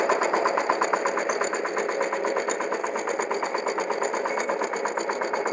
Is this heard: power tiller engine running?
yes